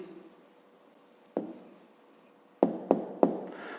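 Pen on paper writing out a maths answer by hand, a soft scratch followed by a few sharp taps, close and quiet with no talk.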